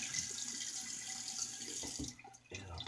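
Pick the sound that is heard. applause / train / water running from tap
water running from tap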